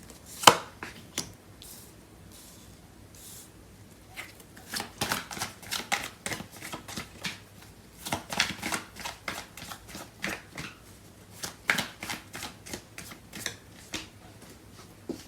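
Tarot cards shuffled in short bursts of riffling and snapping, near and fairly soft, the bursts irregular with brief quiet gaps between them and no speech.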